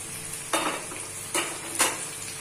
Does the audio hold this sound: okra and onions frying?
yes